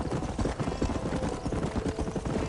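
A horse trots with rhythmic hoof clops under a broad, noisy wash of movement in Red Dead Redemption, steady and fairly close throughout the short stretch.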